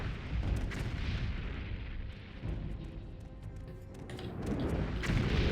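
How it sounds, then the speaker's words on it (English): A fire spell in the video game Morrowind bursts out in deep rumbling booms, several muffled blasts rolling at moderate loudness and swelling again toward the end. "our fire spell's not doing much"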